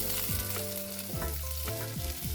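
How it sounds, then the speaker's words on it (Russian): Cherry tomatoes frying in a pan, a steady sizzle with bursts of popping and stirring scrapes, close and loud, no talking. "Быстро обжариваем томаты черри."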